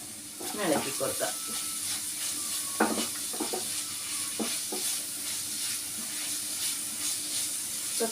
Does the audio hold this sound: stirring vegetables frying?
yes